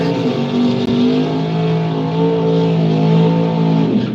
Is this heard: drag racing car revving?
yes